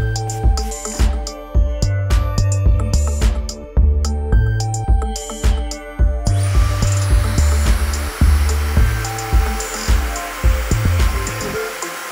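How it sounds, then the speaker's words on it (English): A hair dryer blows on hair while it is being styled, a steady airy rush entering midway and continuing under loud rhythmic music with a thumping beat. "and then blow drying"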